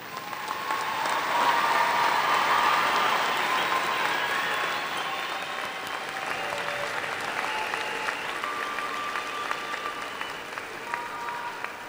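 Applause from a commencement ceremony audience swells early, then continues more thinly and evenly through the rest, moderately distant with scattered crowd noise.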